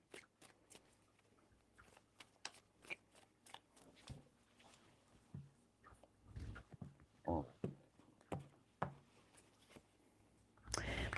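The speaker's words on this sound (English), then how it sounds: "Three shuffles." Tarot cards are shuffled by hand in a quiet room, producing a series of soft, irregular riffling and slapping bursts with brief pauses between them, close and fairly faint.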